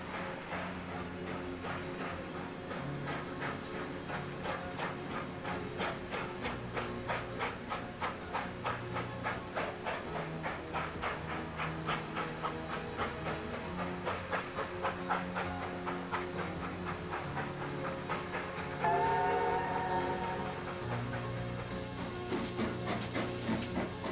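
A steam train chugs past with a steady, rapid clickety-clack of wheels, hissing steam and a brief brighter whistle-like burst near the end, loud and close throughout.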